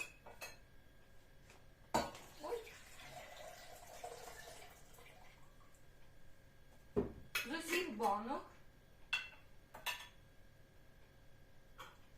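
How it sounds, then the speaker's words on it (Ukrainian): Water is poured off from a pot while pickling cucumbers, with splashing and clattering of dishes and pans, nearby, amid a quiet kitchen hum. "І зараз зливаю я воду."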